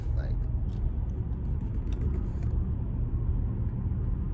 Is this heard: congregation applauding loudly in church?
no